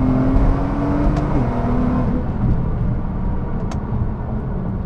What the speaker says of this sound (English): this is a 2010 Nissan GTR R35 Skyline